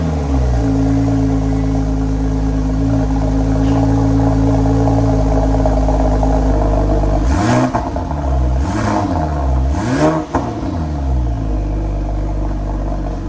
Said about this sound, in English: I'll give you a little cold start here real quick.